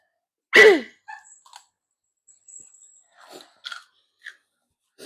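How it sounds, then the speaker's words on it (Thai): Someone chews spicy chili peppers, opening with one loud close crunch and followed by a string of softer, scattered crunching and mouth sounds separated by short silences. "เคี้ยวพริก"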